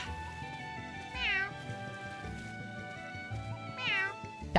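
A human voice imitates a cat in The Adventures of Elliot video game, giving two drawn-out meows over background game music with sustained tones.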